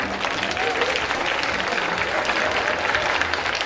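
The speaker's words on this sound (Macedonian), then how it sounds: "Аплауз за Дарко!" Audience at a dance show in Macedonia applauds steadily, a dense continuous clatter of clapping filling the room for a few seconds with no voices on top.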